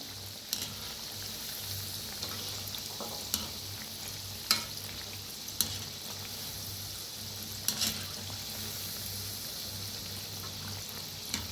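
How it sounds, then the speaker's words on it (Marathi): Shankarpali dough pieces fry in hot oil, a steady bubbling sizzle broken by several sharp clicks of a utensil turning them, close and fairly loud with no talk. "तेल आहे गरम तेल असतंय थोडंसं तळूया खालीवर करूया"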